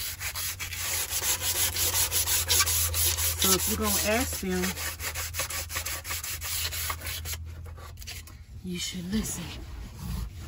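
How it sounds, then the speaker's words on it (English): Hand sanding of wooden panels for a wardrobe closet being built in a cargo camper van, a steady scratchy rubbing that runs nearly the whole time, loud and close, with someone talking over it. "I pretty much got everything sanded down"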